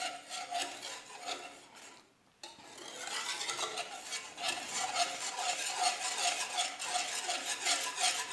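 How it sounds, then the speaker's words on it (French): Steady scraping and swishing of a spoon stirring orange juice and cornstarch cold in a saucepan, close and continuous, with a brief pause early on. "Donc je vais mélanger au froid."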